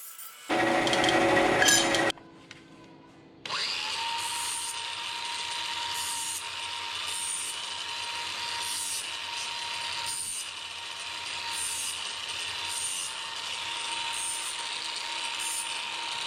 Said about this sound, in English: Just gonna cut this on the bandsaw